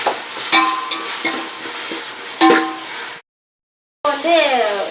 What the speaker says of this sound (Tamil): இஞ்சி பூண்டு போட்டதுக்கப்புறம் நம்ம எடுத்து வச்சு இந்த கொத்தமல்லி புதினா 2 போட்டு வதக்கிக்கலாம்